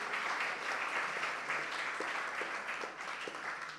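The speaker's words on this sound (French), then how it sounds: "Oui, on peut l'applaudir." A conference audience at a round-table discussion on extreme climate events applauds a speaker, giving a continuous, fairly even burst of clapping that lasts the whole few seconds.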